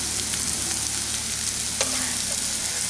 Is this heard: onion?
yes